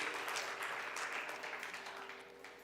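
A church congregation claps for Jesus at the close of a sermon. The applause is even and fairly soft and tapers off over a few seconds.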